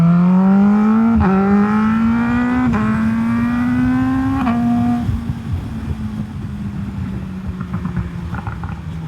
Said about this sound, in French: juste voir maintenant avec cet échappement comment je l'entends